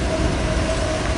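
A BNSF freight train led by locomotive 6390 rolls past in the Puget Sound area, a steady broad rumble with a faint sustained tone and no clear wheel clicks, continuous and fairly close throughout.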